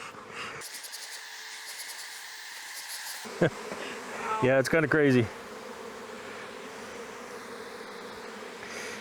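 Bees buzz with a steady drone at a nuc hive being fed, rising into louder close-up buzzing bursts midway, with a person speaking briefly over them.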